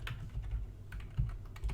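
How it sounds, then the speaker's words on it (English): Computer keyboard typing a web address, a short run of light, uneven key clicks close up with a soft low hum underneath. "we're going to go ahead and type that address into our web browser here"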